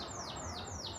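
Canary singing close by, a run of quick repeated descending whistled sweeps in steady rhythm over faint background noise.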